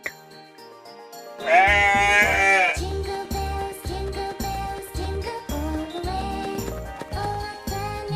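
A goat bleats loudly in one long wavering cry over a steady bouncy children's music backing with a thumping beat that continues throughout.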